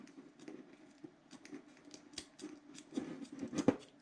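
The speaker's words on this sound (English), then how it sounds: "Take your leatherman tool scissor and cut this wire." A Leatherman multi-tool's scissors snip through antenna wire in a few quiet, close, uneven cuts, with small clicks and rustles between them and a sharper snip near the end.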